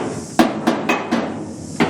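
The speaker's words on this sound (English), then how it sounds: "I've then gone through and just basically dressed everything up with the hammer and dolly" A hammer and dolly dress a sheet metal patch panel with five sharp, ringing metallic strikes at uneven spacing. The blows are loud and close, with a quiet pause before the last one and no talking.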